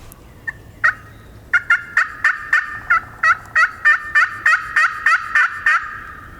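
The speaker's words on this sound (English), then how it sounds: "I just heard those gobblers gobble" Wild turkey gobblers, four longbeards, gobble on the roost: a long series of loud, sharp, rattling gobbles in quick succession, overlapping one another in an otherwise quiet outdoor setting.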